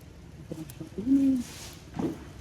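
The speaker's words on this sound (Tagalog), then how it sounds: "Yung mga kalapati pumapasok sa loob ng market" Pigeons coo softly nearby inside a market in Hanoi, Vietnam, a couple of low throaty calls over faint background murmur.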